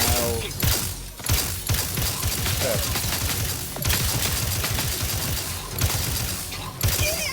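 Rapid gunfire in The Outer Worlds 2 cracks in repeated bursts and single shots, loud and close, with short pauses between volleys.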